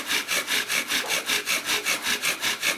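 A wooden bow drill spindle driven with fast, full strokes to build friction dust, a rhythmic back-and-forth rasping sawing sound, about four strokes per second, close and alone.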